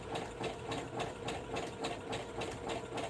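A sewing machine stitches slowly around the edge of a sweatshirt, a soft, even mechanical chugging that pulses with a steady rhythm, close and quiet, with no talking.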